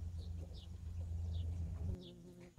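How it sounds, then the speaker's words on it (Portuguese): Native stingless bees buzzing around flowers, a steady close insect hum with faint wingbeat whines passing by, over a low background drone. "Olha a quantidade de abelhas."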